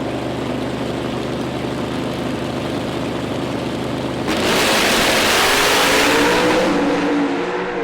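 A Mountain Motor Pro Stock drag race car makes its run at a drag strip: a steady engine drone suddenly erupts into a loud, broadband roar about halfway through and stays intense and close until the end.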